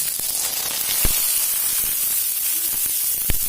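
Water poured into a hot pan holding a Thai-style omelette for a soup, giving a steady close sizzling hiss with a few sharp crackles and pops along the way, no voices.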